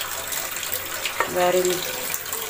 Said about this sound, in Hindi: मैं भी तकरीबन इसमें 1/2 कप जो है ना वो पानी के ऐड कर रही हूँ